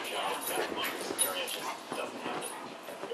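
A dog whimpers and yips softly at close range in short, faint bursts, with a person speaking over it.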